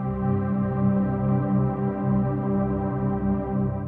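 A VCV Rack 2 modular synth patch holds a steady ambient background voice, a dense sustained drone of layered tones that swells gently and evolves slowly, even and unbroken throughout.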